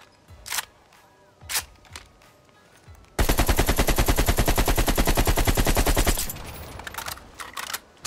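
AK-47 gunfire in Call of Duty: Black Ops Cold War, a loud rapid burst of automatic shots lasting about three seconds, preceded by a few handling clicks and followed by quieter mechanical rattles.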